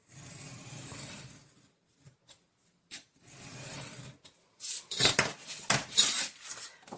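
Folded paper is sliced for a book-shaped box, giving two rasping cutting strokes separated by short pauses, followed by a cluster of louder, clattering handling knocks close by.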